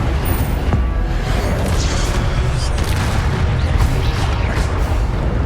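Incendio fire spell cast in Hogwarts Legacy, a loud, dense burst of roaring, booming fire with a steady rumbling low end that holds through the whole stretch.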